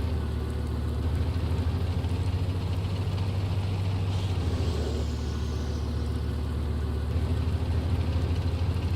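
A tank engine idles in the Steel Beasts combat game, a steady low rumbling drone with a faint hiss layered above, continuous and unchanging throughout, no talk.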